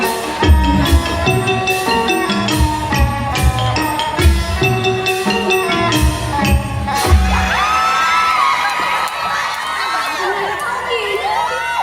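A crowd cheers and shouts loudly throughout, with drums and music pounding underneath and sharp bangs in the first half, the din shifting to a denser roar of voices near the end.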